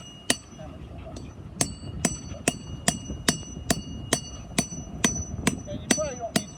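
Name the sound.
hammering a Stake Boss tarp stake into the ground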